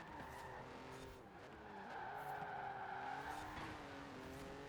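Tires skid and squeal as a car brakes hard on a race circuit in Forza Horizon 4, a steady sustained screech over the engine drone lasting several seconds.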